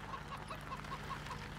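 Chickens cluck in a farmyard in the Farming Simulator 17 video game, a steady run of short, soft clucks repeating about every fifth of a second over a low constant game hum, with no talking.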